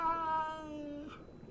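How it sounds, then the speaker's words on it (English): Cat meow sound effect from the game Minecraft, a single drawn-out synthetic mew with a clear harmonic tone that slides and fades, heard alone. "It's just cat sounds."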